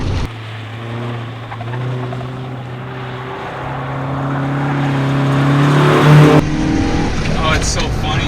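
Stock NA Mazda Miata driven on a lap, its engine droning from inside the car and rising steadily in pitch as it accelerates, with a faint voice briefly over the engine.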